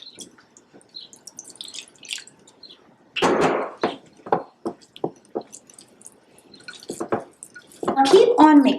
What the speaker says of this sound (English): keep on mixing the dough with your hand.